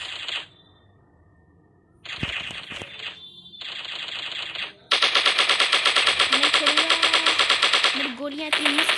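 Rapid automatic gunfire from a PUBG-style shooter game, loud bursts of rattling shots starting and stopping, then a long sustained volley near the end, with a voice talking over parts of it.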